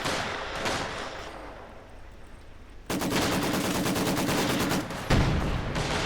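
Maxim machine gun firing in a Company of Heroes 2 2v2 match: after a quieter stretch of distant battle noise, a loud, rapid, sustained burst of automatic fire starts midway and runs to the end, with a heavy thump near the close.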